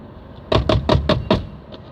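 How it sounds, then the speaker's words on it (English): Five loud, evenly spaced knocks on a door, close by and alone, with quiet room tone before and after. "knocks the door again"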